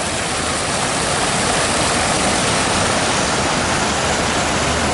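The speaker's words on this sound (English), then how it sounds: "Look at that waterfall." Small waterfall beside Highway 301 in Florida, a steady broadband rush of falling water, loud and continuous throughout with a faint low rumble beneath, and no talking.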